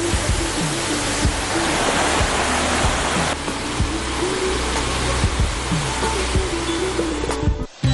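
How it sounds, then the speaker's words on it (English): A hidden waterfall in a serene Sri Lankan forest roars with loud, continuous broadband rushing that stays steady throughout, with no voices. "Tucked away in a serene forest haven, this enchanting waterfall remains a secret to most."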